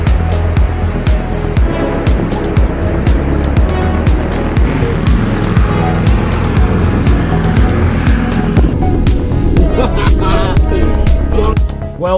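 A vehicle engine labours loudly and continuously while climbing sand dune tracks in Tasmania, with rumbling and some clatter throughout.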